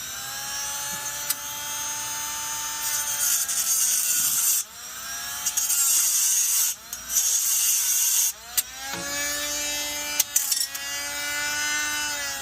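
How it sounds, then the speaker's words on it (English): A small Dremel rotary tool grinds through rusted exhaust nuts on a 1996 Chevy 1500 with a steady high-pitched whine that dips briefly several times as the cutting load shifts. "I got myself a little Dremel tool, and we're going to try cutting these babies out of here."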